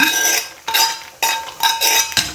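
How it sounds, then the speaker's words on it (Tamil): Roasted cashews tipped into a pot of sago and coconut milk payasam and stirred, giving bursts of metallic clinks and scraping from a spoon against the pot, four or five distinct clattering strokes, close and fairly loud with no talk. "வறுத்து வச்சுருக்கோம் பார்த்தீங்களா முந்திரி பருப்பு, அதை இதில் போட்டுக்கலாம்"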